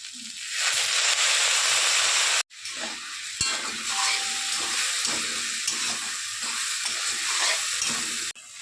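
Vegetables for a Bengali vegetarian chorchori sizzle loudly in a pan as a little water is added, a steady hissing steam with brief breaks and faint stirring clatter, no talk.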